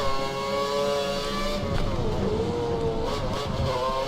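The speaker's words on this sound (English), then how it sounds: "It still sounds like his engine was on." An F1 race car engine in the F1 2013 video game at Malaysia drones loudly and continuously, its high whine shifting pitch as it revs, with no talk.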